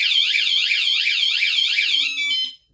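A Fosmon bicycle alarm shrieks loud and close in a steady warbling siren that rises and falls in a fast repeating cycle, then cuts off abruptly.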